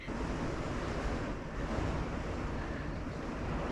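Strong wind roars continuously, buffeting the microphone with a loud, broad rushing noise and no pauses.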